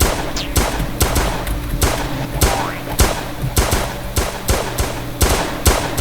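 Rapid bursts of video-game gunfire crackle on and off throughout, dense machine-gun rattles and single shots layered over a steady low hum, loud and close with no talking.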